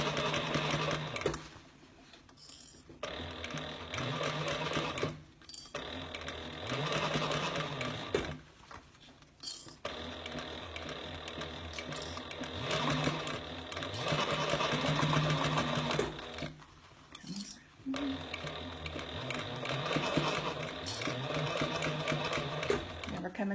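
A sewing machine runs in long stitching bursts along the edge of a bag, its rapid mechanical whir pausing briefly between runs, with someone speaking at times.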